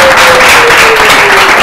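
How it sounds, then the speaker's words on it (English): Loud, steady applause from a quiz show audience fills the short stretch without a break, a dense wash of clapping with a faint sustained tone running underneath. "ladies and gentlemen, round of applause"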